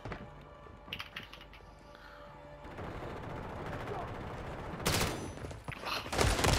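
Gunfire in a Call of Duty match: bursts of rapid shots and scattered pops at moderate distance, with louder volleys near the end and voices chattering in between.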